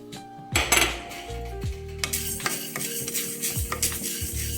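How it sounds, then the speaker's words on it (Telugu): Urad dal dry roasting in a pan without oil, a spoon scraping and clanking against the metal pan in repeated strokes over a faint rustle of dry lentils, close and without talk. "ఇవన్నీ ఆయిల్ లేకుండా డ్రైగానే వేయించేసుకుందామండి"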